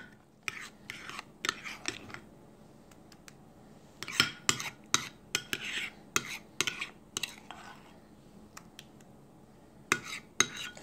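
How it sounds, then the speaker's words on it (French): Eggs and avocado are mashed and stirred in a bowl with a utensil, making close clicking and scraping taps in irregular clusters with quiet pauses, while a voice murmurs softly now and then. "Voilà, je mélange bien."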